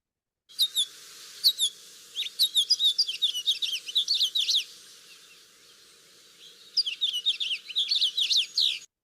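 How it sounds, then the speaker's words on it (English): A house finch sings clear, close runs of high warbling notes, two lively phrases separated by a short break, against a quiet background. "This is the house finch."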